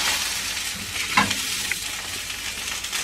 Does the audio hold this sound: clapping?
no